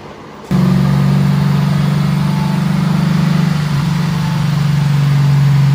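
A modified 2013 Lexus IS-F with a 5-liter V8, intake, headers and tube, fires up on a dyno and settles into a steady, loud, deep idle that drones evenly throughout after a sudden start.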